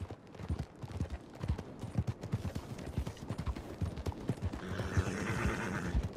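Horse hooves clip-clop steadily on a road while riding in Red Dead Redemption 2, a brisk rhythmic patter of hoofbeats heard up close, with a soft rising wash of ambient noise toward the end.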